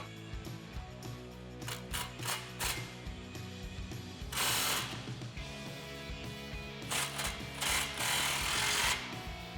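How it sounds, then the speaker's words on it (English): A 15mm socket on a ratchet tightens an exhaust clamp on a 2009-2014 Dodge Challenger 5.7L during a Flowmaster Outlaw cat-back install, giving rapid clicking bursts in several runs over a low steady hum, close up, with no speech. "Grab your 15 socket and tighten down that clamp."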